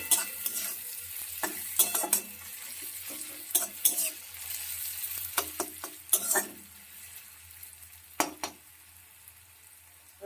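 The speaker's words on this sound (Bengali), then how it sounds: "ঢাকনাটা খুলে একবার নাড়িয়ে দেবো দেখো পেঁয়াজটা অনেকটা নরম হয়ে গেছে আরেকটু নরম করে নেব" Onions soften in a pan for a Bengali egg curry, a soft low sizzle punctuated by scraping spoon strokes and light clinks of utensil against metal.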